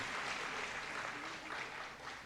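An audience applauds and cheers at a welcome event in Knowledge City for George W. Bush, a dense wash of clapping that holds steady and then fades slightly over a couple of seconds.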